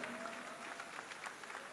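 Applause for a prize winner at an award ceremony: a hall audience claps steadily and evenly, heard from a moderate distance throughout.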